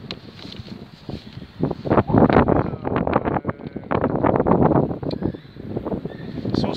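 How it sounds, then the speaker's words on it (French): Gusty wind buffeting a microphone outdoors on a sunny day, a loud continuous rumbling roar that surges and dips with each gust, with faint talk underneath. "Oh, il y a du vent là, en plus, il fait très beau là, mais il y a du vent."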